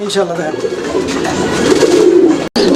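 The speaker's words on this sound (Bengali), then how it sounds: "শুরুতেই আমরা দেখতে পাচ্ছি একজোড়া চিলা কবুতর" A pair of orange chila pigeons coo in soft, low repeated calls close by, with someone talking over them throughout.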